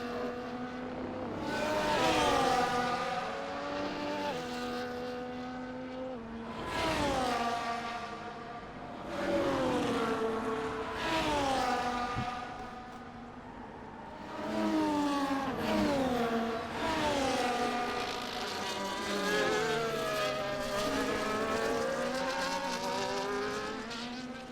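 Race car engines in a racing video game scream and rise in repeated revving passes as cars slide and head into the pit lane, the engine notes swelling and fading in waves under faint commentary.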